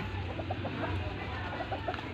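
A chicken clucks in a short series of soft clucks over low steady background noise, with no clear talking.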